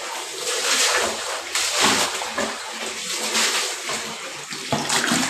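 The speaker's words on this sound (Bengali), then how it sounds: "পুরোপুরি পরিষ্কার করে জল দিয়ে ধুয়ে নিই আগে" Water splashing and running across a bathroom floor and fixtures as it is rinsed clean after scrubbing with Harpic acid cleaner, a steady loud wash with bursts of splatter throughout.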